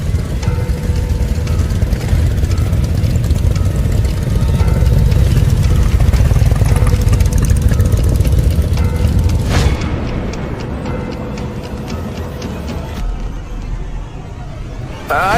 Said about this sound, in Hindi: मोटरसाइकिल की आवाज आई।